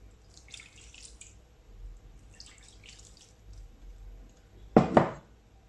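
Cold water splashes briefly into a pot for Moroccan vegetable couscous, a short close burst near the end after quiet faint clinks.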